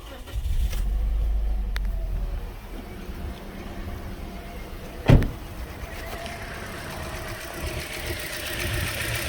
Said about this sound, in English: We're going to start the car up.